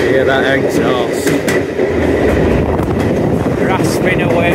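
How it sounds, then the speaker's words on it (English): Diesel multiple unit train running through a long tunnel on the East Lancs Railway, its exhaust rasping loudly and continuously with a dense reverberant rumble, close and steady throughout. "Hear that exhaust"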